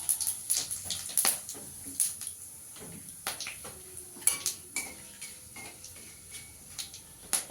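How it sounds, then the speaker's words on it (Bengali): Bay leaf, cardamom, cinnamon, cloves and cumin seeds hit hot oil for a paneer cauliflower curry, bringing a light crackle among repeated spoon taps and metallic clinks on the pan. "এই তেলে আমি তেজপাতা, একটু গোটা গরম মশলা, এলাচ, দারচিনি, লবঙ্গ ফোড়ন দিয়ে দেবো।"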